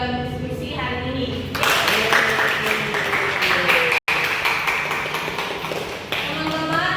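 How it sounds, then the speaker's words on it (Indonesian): A class applauding students who took part in a discussion, a burst of clapping that swells after a voice, briefly cuts out, then tapers as talking resumes. "mari kita berikan aplaus untuk semua yang telah aktif dalam diskusi hari ini"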